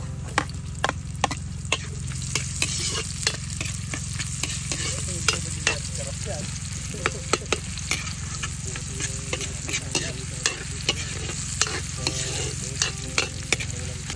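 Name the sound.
garlic and onion sautéing for adobong bitek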